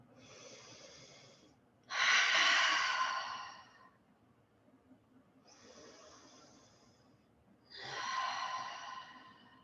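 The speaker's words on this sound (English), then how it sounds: "Inhale, nose. Exhale, open mouth." Slow deep breathing, with a gentle inhale through the nose followed by a louder, breathy exhale through the open mouth, repeated twice in a calm, close, steady rhythm with no talking.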